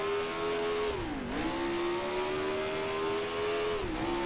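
Race car engine with a six-speed gearbox in Grand Prix Legends drones loud and steady at high revs, dipping briefly twice as gears shift, then climbing again.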